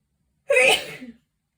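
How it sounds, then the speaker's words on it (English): A single loud sneeze up close, sharp and explosive, trailing off quickly, with quiet before and after. "I'm gonna sneeze, hang on."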